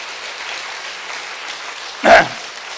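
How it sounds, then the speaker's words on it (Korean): Congregational applause during a Korean Sunday church service fills the space as a steady wash of clapping, with a brief louder burst near the end. "박수로 주님께 영광 돌립니다"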